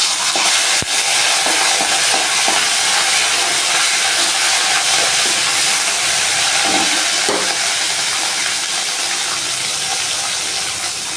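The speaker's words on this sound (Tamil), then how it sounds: "பட்டை கிராம் பொரிஞ்சிட்ருக்கு பொரிஞ்சதுக்கப்புறமா இஞ்சி பூண்டு பேஸ்ட்டு போட்டுக்கலாம்" Ginger garlic paste fries with cinnamon and cloves in a hot pan while mutton pepper fry is being made, a loud, dense and continuous sizzle with occasional stirring scrapes.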